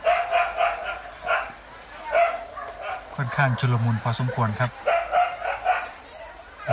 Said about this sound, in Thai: หมาก็เห่าครับ